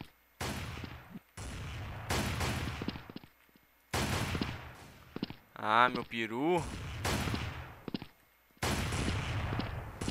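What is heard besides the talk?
gunfire in a video game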